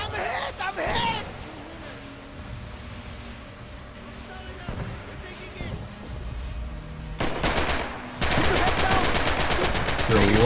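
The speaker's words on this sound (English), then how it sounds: "There are a lot of MP40 fire coming down." MP40 submachine gun fire in a WWII video game rattles in short bursts, some distant and some close, building into loud rapid volleys near the end, with voices heard intermittently.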